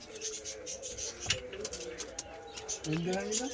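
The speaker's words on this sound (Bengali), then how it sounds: "সুন্দর কোয়ালিটির পায়রা আছে" Pigeons cooing softly in a pigeon seller's loft, a few low murmuring coos, one clearer near the end, beneath someone talking close by.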